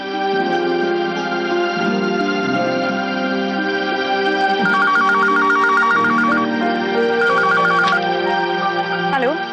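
A telephone rings in a TV drama scene, a repeated electronic ringtone pattern in short pulsing bursts, loud over a layer of background music, with no speech.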